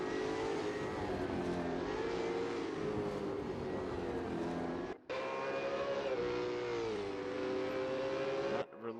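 A V8 Supercar in a racing video game drones steadily at high revs as it pulls into pit lane at Winton, with two brief dips where the engine note cuts out before resuming.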